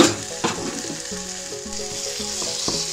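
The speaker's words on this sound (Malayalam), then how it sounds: "ഒന്ന് ഫ്രൈ ആയി വരുന്ന വരെ വെയിറ്റ് ചെയ്യാം" Chicken pieces fry steadily in a hot pan for a chicken Maggi cutlet, giving a loud, continuous sizzle and crackle with a few sharper pops near the start.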